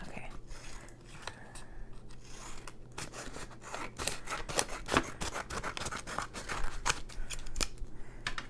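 Scissors snip through paper scraps for a junk journal, a quick irregular series of close, crisp cuts with soft rustling of paper between them.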